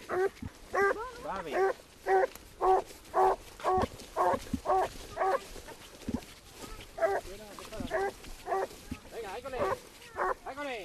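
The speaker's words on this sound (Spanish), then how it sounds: "este perro va a ser un espectáculo cuando le manden pararle los berridos que va a pegar" Hunting dog baying on a wild boar trail, a long run of loud, repeated yelping barks in rhythmic bursts with brief pauses, fairly close, over outdoor background.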